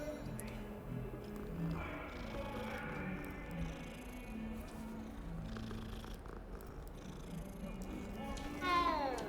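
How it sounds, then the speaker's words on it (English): A cat in the video game Hogwarts Legacy purrs softly and steadily at low volume, with a meow rising near the end over a quiet background. "It's a cat."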